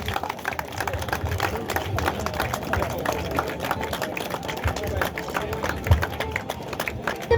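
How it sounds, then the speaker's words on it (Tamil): Crowd clapping at a sports club prize-giving in Erode, a steady continuous patter of many hands lasting throughout with a murmur of voices beneath. "கைத்தல் கொடுத்தே ஆகணும்."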